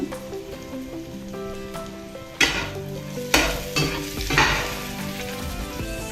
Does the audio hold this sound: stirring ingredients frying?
yes